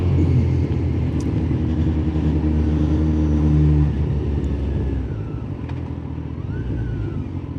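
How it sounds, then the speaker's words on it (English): Steady low rumble of road traffic with car engines droning nearby, loud at first and easing slightly as vehicles move past. "when there's traffic like this"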